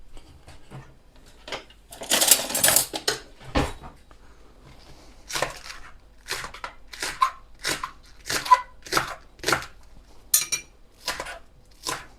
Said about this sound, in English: I'm going to go and chop a few.